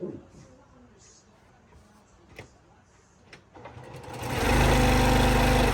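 A sewing machine chain-stitches quilt pieces, starting with soft clicks under a voice, then building into a loud, steady mechanical whir for the last second and a half.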